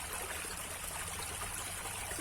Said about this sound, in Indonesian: mendengarkan suara gemericik air